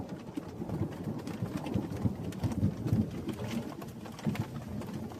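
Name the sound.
heavy rain with thunder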